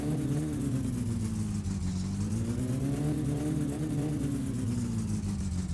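A Satsuma car engine from the game My Summer Car, fitted with a racing carburetor being tuned, idles steadily and loudly with a droning low hum that rises and dips slightly, without talk.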